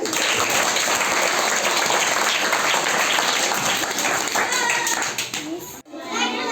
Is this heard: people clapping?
yes